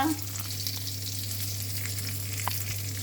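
Pork belly fries in a pan with a steady, close sizzle and faint crackles, a constant low electrical hum underneath and no talk.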